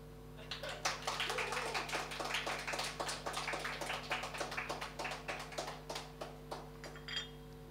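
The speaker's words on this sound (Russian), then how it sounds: "на какую песню больше всего будет аплодисментов?" Audience clapping at a live show after a song, a steady patter of many hands that runs for several seconds and thins out toward the end, heard over a faint electrical hum.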